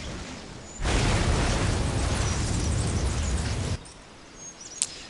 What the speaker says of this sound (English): Fires off this extremely slow-moving fireball that explodes and does pretty good area of effect damage